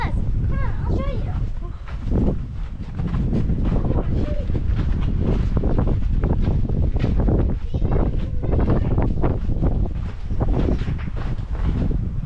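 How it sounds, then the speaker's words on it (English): Strong wind buffets the microphone on a hiking trail in Arches National Park, a loud, continuous rushing roar that lasts the whole clip, with faint voices partly masked beneath it. "But here the wind is a bit strong, so we're gonna go to the trail now."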